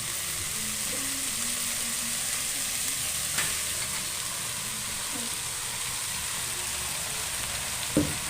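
Spices fry in hot oil for a sprouted green gram sambar, a steady close sizzle running throughout, with a few soft clinks of stirring in the pan.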